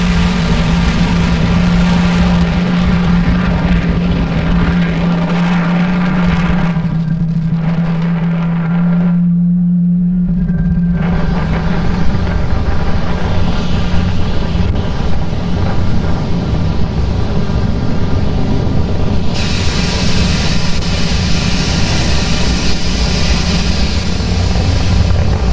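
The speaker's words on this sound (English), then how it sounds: "Falcon 9 has had a successful liftoff from pad 39A." A SpaceX Falcon 9 carrying Starlink satellites lifting off from pad 39A, a loud, continuous rumbling roar that stays heavy throughout, briefly thinning midway before the full dense noise returns.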